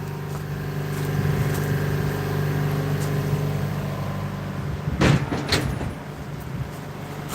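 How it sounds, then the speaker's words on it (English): A door is closed in a workshop during the refurbishment of a Honeywell Turbovisor respirator helmet, a brief rattling thump near the middle over the steady drone of a loud compressor, with the hum dropping slightly afterward. "I'm going to close that door."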